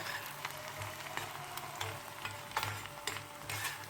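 Onions fry in a pan for Turkish mercimek köftesi, a continuous close sizzle with a soft low hum, broken by repeated scraping clicks as a utensil stirs them.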